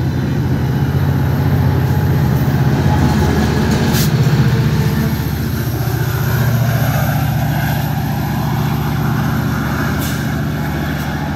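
A diesel local train passes near a station with a loud, steady engine drone and rumble throughout, plus a few brief sharp hisses.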